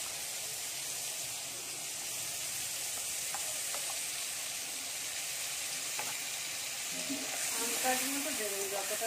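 Cumin and onion paste fry in a pan of oil, giving a steady close sizzle with light stirring clatter, louder bubbling spitting near the end.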